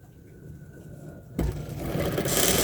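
A sewing machine topstitches a bra strap close to its edge. The motor starts abruptly partway through and then runs steadily and loudly to the end, with no talking.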